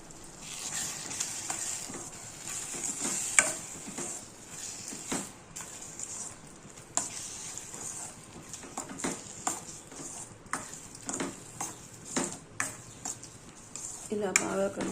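A metal spoon scrapes and clinks against a pan as eggs and tomatoes are stirred and cooked with turmeric and chili powder, soft sizzling underneath the irregular taps and scrapes, close up.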